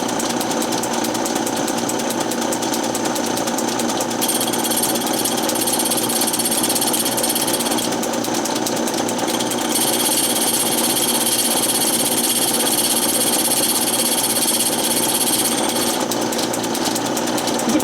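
A metal lathe runs steadily in a chopper repair shop, giving a continuous mechanical whir and rattle with a high whine that cuts in and out, loud and close with no talk.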